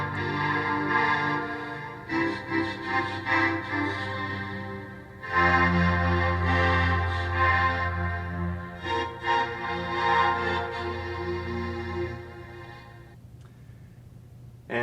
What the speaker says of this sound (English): when you vocode those signals together, you get a result that sounds like this